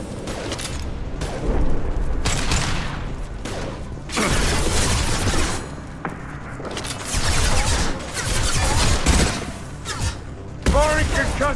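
Concussive shot firing during combat in the video game Mass Effect 2, with booming blasts, gunfire bursts and mechanical clatter layered densely, loud and continuous, with voices speaking over the battle.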